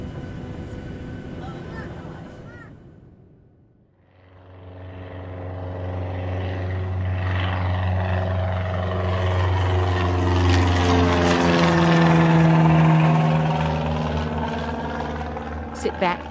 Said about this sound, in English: Please fasten your seatbelt. We will be taking off shortly.